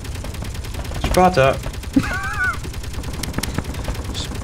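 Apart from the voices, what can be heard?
gunfire in a video game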